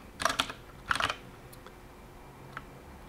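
Computer keys pressed in two quick bursts of clattering clicks, followed by a few isolated taps, close and fairly loud with no voices.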